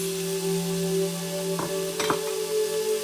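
Tomatoes go into a hot Instant Pot for matar paneer, giving a steady sizzle with a couple of brief stirring scrapes and thuds partway through, close and without talk.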